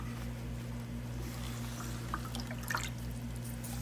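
Live Orange Sunkist shrimp poured gently with their water into a bucket, giving a soft, steady trickling and splashing over a constant low hum, with a few faint drips toward the end and no talk.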